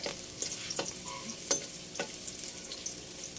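Garlic sizzles gently in a pan as it fries to golden brown for sautéed squid, with a low steady crackle and several sharp utensil clicks from stirring.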